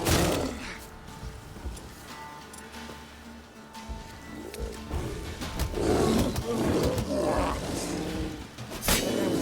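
A bear growls and roars in Witcher 3, several rough guttural bellows building in the second half amid combat thuds and whacks, close and loud over a busy game soundscape with a brief voice.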